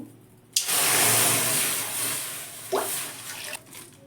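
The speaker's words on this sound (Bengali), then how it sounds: "কড়াটা বসিয়ে দিয়েছি এতে জল কিছুটা গরম করে নেব" Water poured into a wok to be heated, an abrupt start to a steady splashing rush that lasts around three seconds and then cuts off, close and fairly loud.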